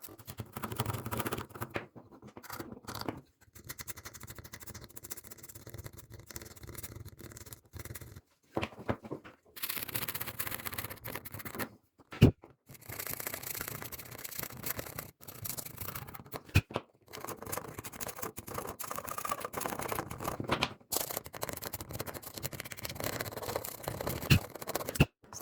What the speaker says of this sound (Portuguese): Nós vamos raspar o esmalte na junção das placas.